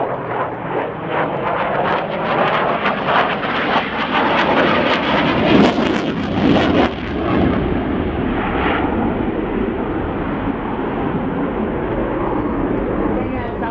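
A delta-wing jet roars loudly overhead as it performs a slow roll at the Royal International Air Tattoo airshow, a broad, sustained rumble that swells midway, with a commentator talking over it.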